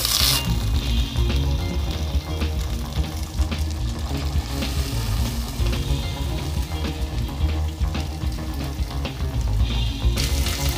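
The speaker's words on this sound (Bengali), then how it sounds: "পেঁপেটা কড়াই দিয়ে দিচ্ছি" Papaya frying with potatoes and spices in a kadai of hot oil, a loud, steady close sizzle with crackling spatter and occasional stirring clatter, no voices.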